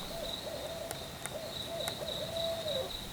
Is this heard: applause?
no